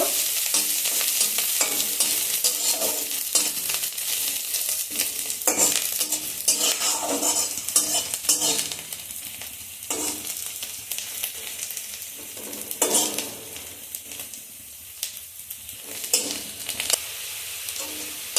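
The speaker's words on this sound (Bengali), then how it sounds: "কুচনো রসুন দিয়ে দিচ্ছি। সব কিছু ভালো করে ভেজে নেব।" Chopped garlic and onion fry in a pan with a loud, steady sizzle, while a utensil stirs and scrapes against the metal in repeated strokes.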